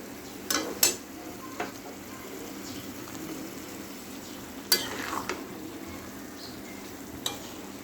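Taro pieces with prawns being sautéed in oil, a soft low sizzle under occasional sharp scrapes and clinks of a spatula stirring in the pan, close by with no talking.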